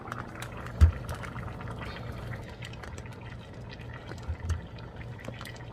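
Hamburger, sauce and noodles simmer together in one pot on a stove, giving soft, steady bubbling with scattered small pops and drips. One sharper tap stands out early.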